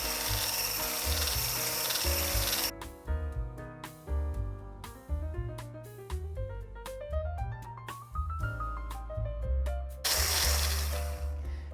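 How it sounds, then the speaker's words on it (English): An immersion blender fitted with a whisk attachment whips cream, its electric motor giving a close, steady whine that shifts pitch and climbs through the middle, with rougher whirring bursts at the start and end. "So I just have my immersion blender with a whisk attachment, hand mixer, stand mixer."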